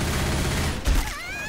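A single sharp gunshot cracks over a dense, continuous rumble of Left 4 Dead 2 game noise, followed by a brief ringing tone.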